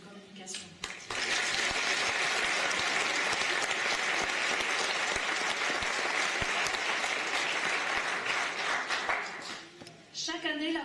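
An audience bursts into sustained, loud applause at a communication-school graduation ceremony, a dense roar of clapping lasting most of the moment, with a voice briefly audible before it starts and as it fades.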